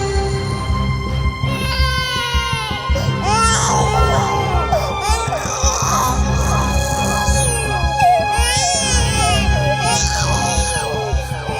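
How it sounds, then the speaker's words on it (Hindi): A baby cries loudly and continuously, in rising and falling wails, layered over a dense backdrop of crowd murmur and music for the whole stretch. "कोई बच्चा रो रहा है।"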